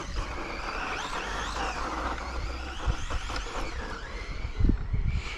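Whining electric motor of a Traxxas Mini Maxx RC monster truck driving, its pitch sweeping up and down as it speeds and turns, with rough knocks and bumps over the ground near the end.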